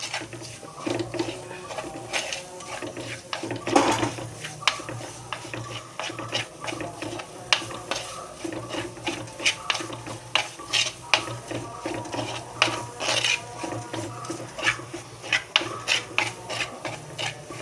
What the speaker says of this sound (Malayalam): അതും ഇട്ടിട്ട് നല്ലവണ്ണം ഇളക്കി അതിൻ്റെ പച്ചമണം ഒന്ന് മാറുന്നിടം വരെ നമുക്ക് ഇളക്കി കൊടുക്കാം.